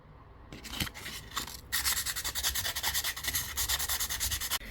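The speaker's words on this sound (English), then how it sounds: "let's rough up the Terminator a bit with some sandpaper" Sandpaper rubs briskly over a 1/18 scale Greenlight Chevrolet police car model, a close, rapid back-and-forth scratching that starts in short strokes and settles into a steady rhythmic sanding run.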